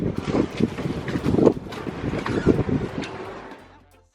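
Wind gusts blow across an exposed spot in the Exumas, Bahamas, buffeting the microphone with loud, uneven rumbling bursts that swell and ease for a few seconds before dying away.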